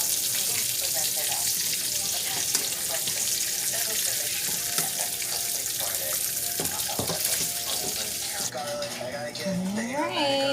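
Food cooks in a frying pan with a steady sizzle, with a voice talking over it, then running water and clatter near the end.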